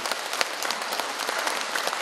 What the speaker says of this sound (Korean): 우리 회장님께도 박수 보내주십시다